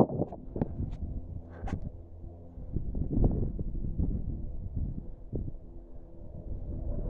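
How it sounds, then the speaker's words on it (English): Wind buffets a microphone beside a slow-turning wind turbine, with low rumbling gusts rising and falling and a few faint knocks. "Checking the wind speed between 5 and 10 miles per hour right now"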